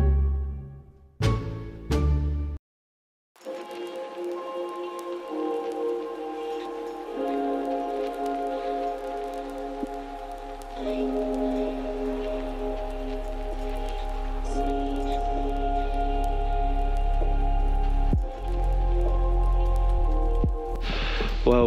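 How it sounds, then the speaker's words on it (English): Steady rain patters down over a carp fishing lake at Linear Fisheries, a continuous hiss that builds slightly over about twenty seconds after a few sharp knocks and a brief silence at the start. "Oh, it's raining."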